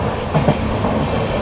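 A train hauled by a diesel locomotive rumbles past on an Indian railway, a dense, continuous rolling noise with faint clattering from the wheels.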